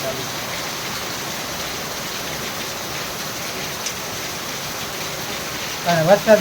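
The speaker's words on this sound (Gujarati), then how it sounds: "વરસાદ" Steady rain falls in an even, dense hiss on the first day of the monsoon rains, with a brief voice rising near the end.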